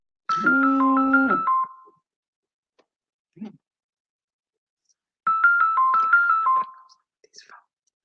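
A telephone used with an amplifier rings with a melodic electronic tone in two loud bursts of about one and a half seconds each, separated by a quiet gap with a faint click. No one speaks.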